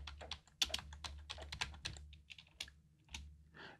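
Keys on a computer keyboard are struck in a quick, irregular burst of close, crisp clicks with short pauses, as a folder name is entered; no one talks.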